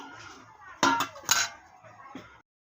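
A kadai is set on the stove with a couple of loud metallic clanks and a lighter clink afterward, close and brief against a quiet background.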